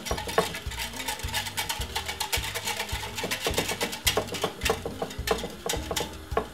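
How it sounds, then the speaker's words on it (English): Oat milk whisked into cornmeal porridge in a pot, a fast rhythmic clatter of a whisk scraping and ticking against the pot, steady and close. "give it a whisk"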